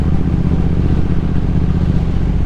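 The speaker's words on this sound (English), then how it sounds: "I'm riding a Steve McQueen Triumph Bonneville right now" A Triumph Speed Twin 1200 motorcycle being ridden, its engine a loud, steady, close rumble with rapid firing pulses and no talk over it.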